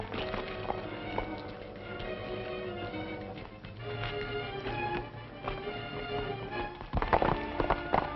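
Horses' hooves clip-clop at a run on a Western ranch trail, a steady drumming patter of several mounts under a busy, dense mix that grows louder and rougher near the end.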